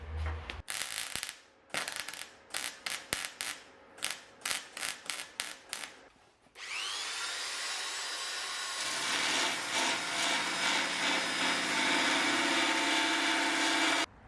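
A new steel plate being welded into a Saab 900 body during rust repair: a run of short, sharp crackling bursts gives way to a loud, steady sizzling welding hiss that carries on to the end.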